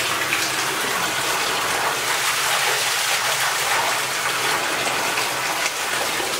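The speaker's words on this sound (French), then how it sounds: "On va aller voir cette cascade là." Inside a silver-lead mine gallery, a cascade of water gushes loudly and continuously, a thick, unbroken splashing roar heard up close with no pauses or voices.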